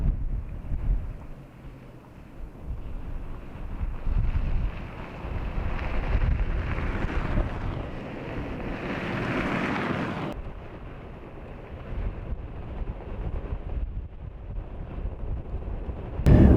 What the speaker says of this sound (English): But man, it is cold, it's windy.